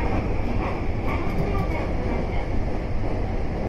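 A Tokyu 2020 series train on the Den-en-toshi Line passes close by as an oncoming train, giving a steady, loud broadband rumble of wheels and running gear that holds throughout.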